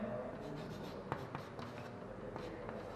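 Chalk or marker scratching on a board during a chemistry lecture on alcohols and nitrous acid, a steady run of short strokes and taps close by, with no talking over it.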